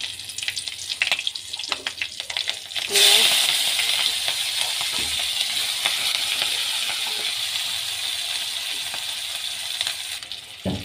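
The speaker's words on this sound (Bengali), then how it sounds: "এবার এই তেলে কাঁচা লঙ্কা দিচ্ছি," Green chillies drop into hot oil in a pan after frying chicken for chilli chicken, and a sudden loud hiss breaks in, settling into a steady close sizzle that fades slightly near the end.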